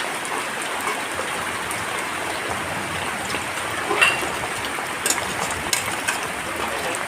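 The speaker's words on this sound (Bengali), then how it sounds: "দেখতে পাচ্ছেন বৃষ্টি, অনেক পরিমাণে বৃষ্টি হচ্ছে।" Heavy rain pouring down steadily, a dense, continuous hiss of drops hitting surfaces, with occasional louder splashes and no talking.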